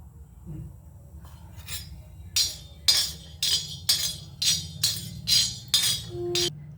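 Spices are dry-roasted on an iron tawa, with a run of about eight sharp metallic scrapes and clinks from a spatula against the griddle in a quick, regular rhythm, close and fairly loud over a low background hum.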